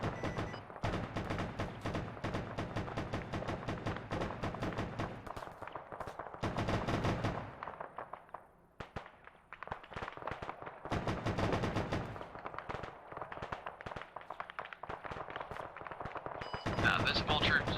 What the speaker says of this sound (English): It looks like those Iglopods are what's shooting at me.